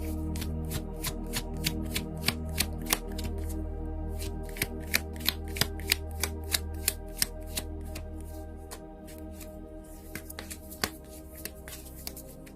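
Tarot cards are shuffled close by in a run of crisp snapping riffles and soft slides, with dense bursts of clicks over quiet room tone and no talk.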